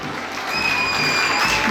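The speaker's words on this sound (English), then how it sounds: "we'll give another big round of applause to our Western Band" An audience applauds the school Western Band at a school sports meet, a short burst of dense clapping that holds steady, with a faint tone sounding under it.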